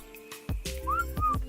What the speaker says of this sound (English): let's see if we can't whistle him down